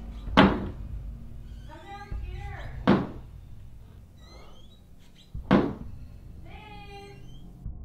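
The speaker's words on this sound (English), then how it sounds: "The slamming of the door intensifies during the witching hour." A door inside a home slams three times at spaced intervals, each a heavy close thud, with voices speaking and calling out between the bangs.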